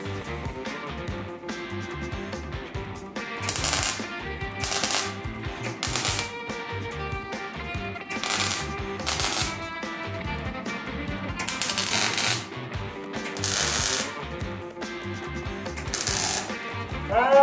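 A drill bores holes in the rocker panel of a Peugeot 205 under restoration, giving repeated loud bursts of rough metal grinding that start and stop in an irregular rhythm over a steady background clatter.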